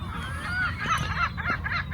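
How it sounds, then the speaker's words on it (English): Seagulls in the nesting period on Inchcolm Island give a loud, close run of harsh honking calls over wind and outdoor noise, one after another, with no talking. "seagulls everywhere, and it must be the nesting period just now"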